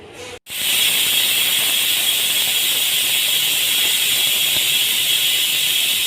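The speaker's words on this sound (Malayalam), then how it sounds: "കുക്കർ അടച്ച് വെച്ച് ഒരു മൂന്ന് വിസിൽ മൂന്ന് വിസിൽ കൊടുക്കുക" A pressure cooker cooking dal lets out a loud, steady, high hissing whistle of steam that starts abruptly after a brief click and holds unbroken, close by with no talking.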